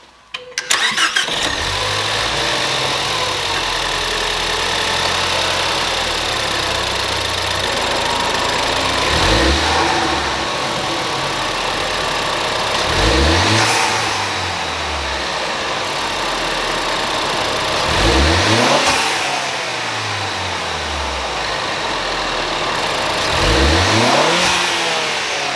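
A 2016 Ford Focus ST fitted with a K&N high-flow air filter idles steadily, then is revved in several strong, evenly spaced throttle blips that rise and fall, close and loud, with no talking.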